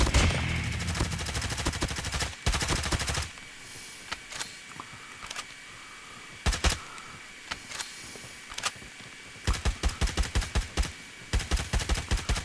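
Bursts of rapid automatic fire from a RUS-79U submachine gun in a ranked shooter video game, sharp cracks repeating in short strings with brief pauses between volleys.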